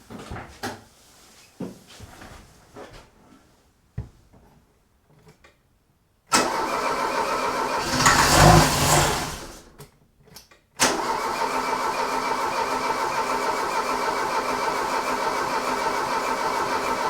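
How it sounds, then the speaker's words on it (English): A rare Ford Fiesta engine, run on start gas, fires up after several faint clicks and cranking noises, roars loudly for a few seconds with a surge, cuts out briefly, then catches again and settles into a steady, close idle. "Well, it started on start gas."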